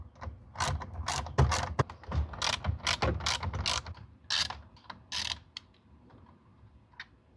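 A hand ratchet clicks in quick, loud bursts of sharp repeated pawl clicks while undoing the 7mm bolts on the radio trim of a 2009-2012 Ford F150, each run of clicks stopping and restarting, then tapering to a few isolated ticks.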